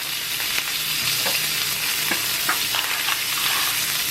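A dry-brined steak sears in a pan for Philly cheesesteak, giving a loud, steady sizzle with crackling pops throughout, close and alone.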